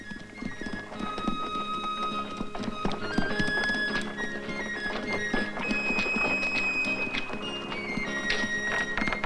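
Horse hooves clip-clop steadily as a horse-drawn wagon arrives, mixed with busy background sound throughout.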